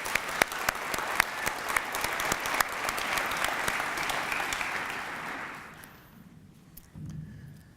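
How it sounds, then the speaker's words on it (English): An audience claps for an award winner at the 2013 Crystal Apple Awards, a dense burst of applause with sharp individual claps that fades out after about six seconds, followed by a brief thump and quiet room. "stand up and give her a round of applause"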